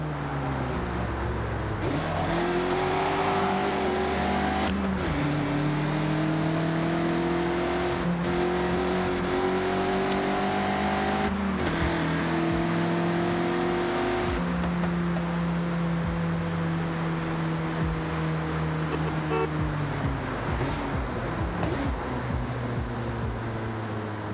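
A Mazda MX-5's engine revs loudly and continuously in a racing video game, rising and falling in pitch through repeated upshifts and corners, with brief dips as the car drifts sideways; no talking.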